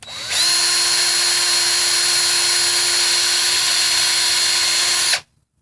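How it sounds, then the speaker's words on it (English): A power drill whines steadily at a high, constant pitch for about five seconds, close and loud, then cuts off abruptly, as the bit drills through holes in a VW 09G transmission valve body. "the drill bit just goes right through it"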